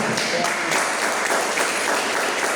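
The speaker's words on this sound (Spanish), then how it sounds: "Un fuerte aplauso al Señor." Sustained applause from a church congregation, a dense steady wash of clapping that stays loud and even for a couple of seconds.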